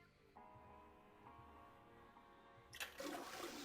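A toilet flushes in the video game 9 Hours 9 Persons 9 Doors, a loud rushing swell of water that kicks in near the end over a quiet background hum. No one speaks.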